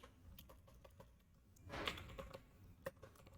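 Keystrokes clatter on a computer keyboard while code is typed, a quick irregular run of faint, close taps with a denser burst midway.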